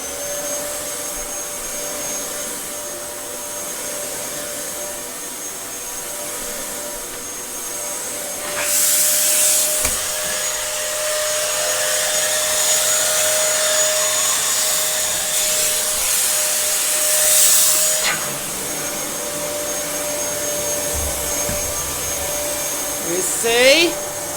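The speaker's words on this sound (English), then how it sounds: "So this is the Dyson that I've paid about a year's." A Dyson DC07 Allergy vacuum cleaner runs with a steady whine around the house, growing louder in two surges as it is worked over surfaces, with brief rubbing and bumping noises.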